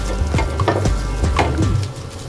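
Rice being stirred into fried rice in a pan, with a steady sizzle and repeated scraping strokes of the utensil close up, no talking.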